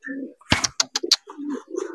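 A domestic pigeon at a bird seller's stall in a Brebes market gives a short run of close, soft cooing calls, a few quick pulsed notes in a row.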